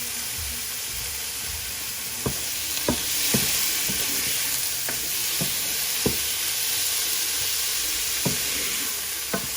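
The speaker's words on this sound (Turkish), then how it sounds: "dana etimizi soğanın karışımına ekledik" Cubed beef fries with onion in a pan, giving a steady, close, continuous sizzle with occasional soft stirring knocks. No talking is heard over it.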